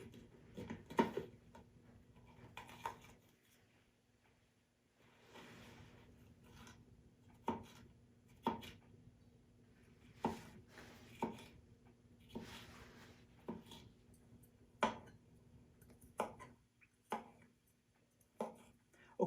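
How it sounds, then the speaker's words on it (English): A knife cuts broccoli and red peppers on a board, sparse sharp taps spaced a second or two apart over a faint kitchen hum. "I've cut up the broccoli and the red peppers"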